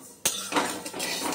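Mung dal is lightly dry-fried in a pan: a sharp metal clink of a spatula against the pan, then brief scraping and stirring with a faint hiss, close and fairly quiet, with no voices.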